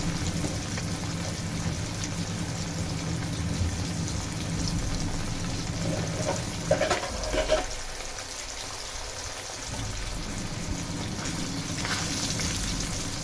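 Hilsa fish frying in oil in a pan for a Bangladeshi tomato-tok dish, a close steady sizzle throughout with a brief clatter midway as the pieces are shifted.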